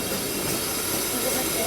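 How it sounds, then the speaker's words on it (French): An old tourist train made up of vintage rolling stock runs along a small rural line, a continuous loud rumble and rattle of wheels on rails heard from on board with no break. "Vous êtes à bord d'un train qui est composé de matériel ancien"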